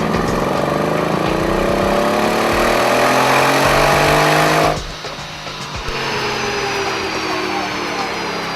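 A Mercedes-Benz E63 AMG S with its hand-built M157 5.5-liter twin-turbo V8 revs hard on a dyno, a loud rising engine howl that cuts off abruptly near the end and drops to a lower rumble.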